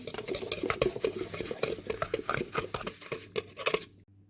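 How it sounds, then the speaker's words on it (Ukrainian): A whisk beats egg, sugar and salt in a mixer bowl with quick, repeated metallic clinks and scraping against the sides. The sound is close and steady and stops abruptly at the end. "Перетираю все разом вінчиком."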